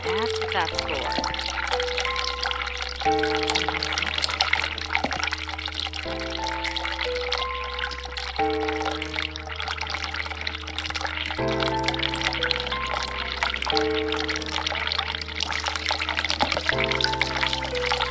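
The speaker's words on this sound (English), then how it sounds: "Hot water." Hot water pouring steadily in the video game The Cat Lady, a continuous splashing flow heard under droning tonal game music and spoken commentary.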